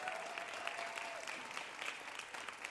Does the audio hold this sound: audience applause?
yes